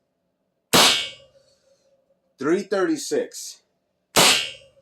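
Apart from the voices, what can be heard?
airgun carbine shots while chronographing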